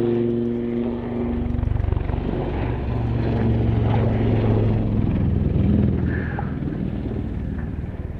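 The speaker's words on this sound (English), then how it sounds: "it's now time to have your camera ready again as the Lynx comes into the hover and a big nose down dive away" A Lynx helicopter at an airshow hovers and dives nose down, its rotor and engine making a steady, loud, droning thrum with slight swells, heard at moderate distance without talk.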